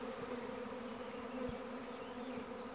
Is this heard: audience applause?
no